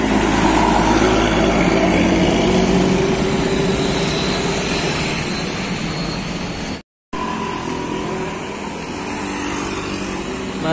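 A DMH Trans medium-size tour bus passes along a road in Ciamis, its loud engine roar and tyre rush holding steady close by, then dropping out briefly before the traffic noise resumes.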